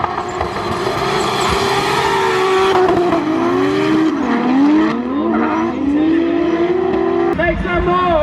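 Cars drifting at a Drift Allstars Germany event, engines roaring loud and close with rising and falling revs, tires squealing, and crowd noise mixed in throughout.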